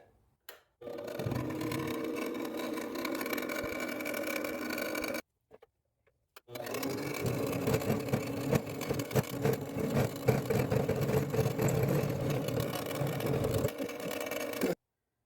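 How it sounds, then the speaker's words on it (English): Mini lathe fitted with a 4-jaw chuck machining a flat spot on a steel part for an excavator log splitter, a steady motor whir with cutting chatter running continuously, broken by a short pause partway through. "So we're back on the mini lathe, and for this part we need a flat spot."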